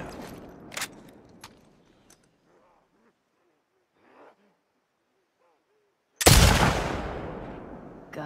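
Gunfire from The Last of Us Part II: a sharp early crack, a stretch of near quiet, then one loud close blast that rings out and slowly decays.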